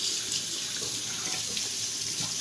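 Water from a kitchen tap runs steadily into a sink during rinsing, a close, continuous splashing rush with no voices.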